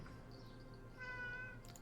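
A cat meows once, faint and close, a short tonal cry rising over a quiet background with no talk.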